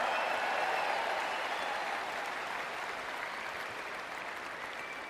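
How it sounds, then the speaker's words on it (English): Large convention crowd at the Republican National Convention applauding in a steady, dense roar of clapping that holds evenly and slowly eases off, with no voices over it. "Another big round of applause for her."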